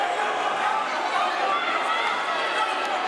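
A home boxing crowd fills the Jackie Joyner-Kersee Center in East St. Louis during a third-round amateur bout, with steady dense cheering and gym mates shouting encouragement to the fighters throughout.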